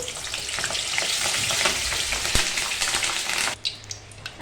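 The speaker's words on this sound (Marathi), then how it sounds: "तेल गरम झालेलं आहे तर मिरची फ्राय करून घेणार आहे मी" Green chillies fry in hot oil with a loud, steady sizzle, with a sharp pop near the middle before the hiss thins out toward the end.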